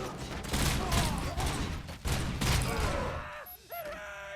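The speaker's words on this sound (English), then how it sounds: "Oh look, some guy just shot something." Gunfire in the Robocop: Rogue City video game, a dense burst of rapid shots over the first three seconds, loud and close, then the shooting breaks off into quieter in-game sounds.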